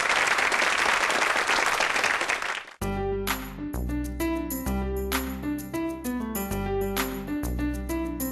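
An auditorium audience claps warmly for nearly three seconds to welcome a speaker at a youth startup lecture, a dense and steady applause that breaks off as loud music starts.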